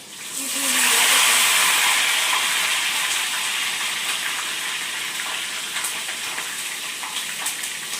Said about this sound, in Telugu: చూసారు కదా, పచ్చిమిర్చి ఫ్రై అయిపోయింది.